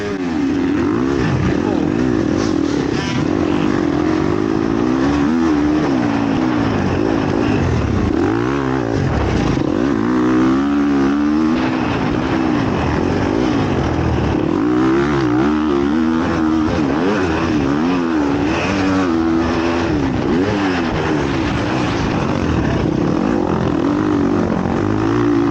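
A dirt bike engine revving hard and continuously during a race restart, loud and close, with the pitch rising and falling as the throttle is worked over and over.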